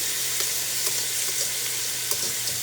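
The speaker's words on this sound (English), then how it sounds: "Now that our butter is melted, we are going to toss in our leeks." Leeks dropped into melted butter in a soup pot sizzle and fry steadily, a continuous close hiss with small pops and stirring scrapes throughout, no voices.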